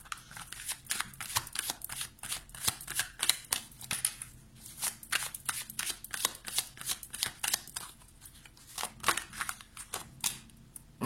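Tarot cards being shuffled close up, a long run of rapid, crisp riffling and flicking snaps in an uneven rhythm, fairly quiet with no talking.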